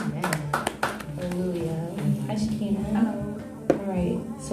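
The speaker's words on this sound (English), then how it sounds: "so we're still clapping." A church congregation claps in a quick run of sharp, close handclaps at the start, then keeps clapping more faintly beneath a loud speaking voice.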